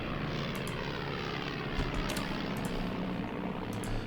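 Propeller aircraft engines drone in a steady, loud, continuous roar as interceptor planes fly scouting missions in the Axis & Allies (2004) strategy game during the Battle of Stalingrad.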